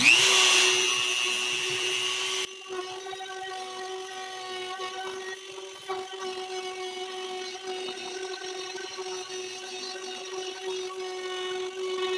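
Router cutting channels into a kit guitar body: a loud burst at the start, then a sustained high-pitched motor whine with layered tones running steadily to the end.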